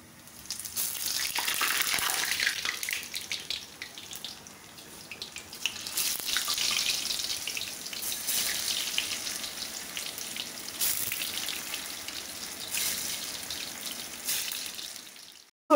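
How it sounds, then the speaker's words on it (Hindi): Water pours steadily into a hot pan of fried taro-leaf rolls, a broad hissing rush with sizzling, swelling and easing in bursts over several seconds. "थोड़ा सा पानी ऐड करेंगे"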